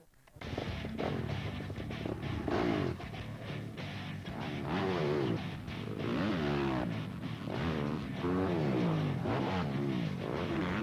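Motocross bike ridden hard around a dirt track, its engine buzzing and revving continuously with rising and falling pitch as it accelerates and shifts, fairly close and loud throughout without talk.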